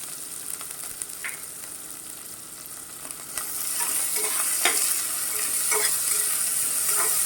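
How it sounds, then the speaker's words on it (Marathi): Chopped onions, cumin seeds and salt fry in oil in a pan, a steady sizzle that grows louder midway, with scattered clinks and scrapes of a spoon stirring. "आपण आता कांदा चांगला मऊ होईपर्यंत भाजून घेऊया"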